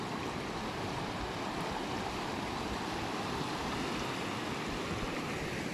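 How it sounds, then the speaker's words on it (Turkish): Floodwater after heavy rain pours like a waterfall near a Sinop beach, making a steady broadband rushing roar that stays even and continuous throughout, with no voices. "Burada az bir miktarda olan su bugün şelale gibi akıyor."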